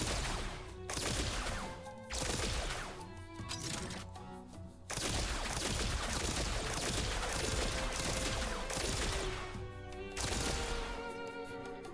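Dual pistols firing bouncing shots in a shooter video game, a dense run of rapid gunfire bursts broken by brief pauses, loud and continuous over a busy game soundtrack.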